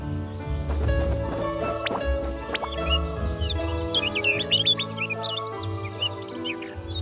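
Small birds chirp and tweet in quick, high bursts over a bed of sustained background music, the calls thickening toward the end.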